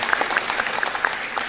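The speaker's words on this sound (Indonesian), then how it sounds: "Berikan tepuk tangan dulu buat Tuhan Yesus" A church seminar audience claps briefly, a short burst of scattered, moderately loud hand claps with distinct individual slaps.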